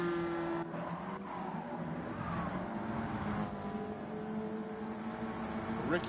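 Stock cars in the CASCAR Cup Series on the High Speed Ring circuit in Gran Turismo 7 drone steadily at race speed, a loud continuous engine roar with shifting pitch as cars pass, and no talk over it.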